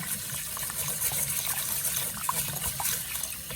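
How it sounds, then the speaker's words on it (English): Rice rinsed under a running kitchen tap, a steady close gush of flowing water with light trickling and splashing throughout. "I keep on rinsing and draining, rinsing and draining"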